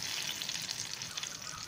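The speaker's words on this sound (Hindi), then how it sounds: "जैसे गर्म हो जाए हम तड़का लगा देंगे ऊपर से" A steady, faint sizzle of spices frying in hot ghee, an even hiss without pauses.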